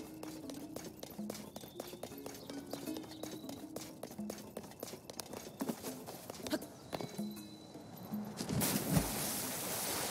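Steady clip-clop of hooves with soft snorts and whinnies from several horses at a stable in a Zelda video game, looping ambience, ending in a brief noisy burst.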